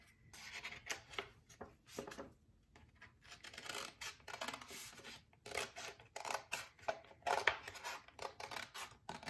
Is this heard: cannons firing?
no